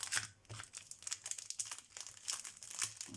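Plastic wrapping around a Christmas card crinkles steadily and close, with loud bursts of crackling and rustling throughout. No talking.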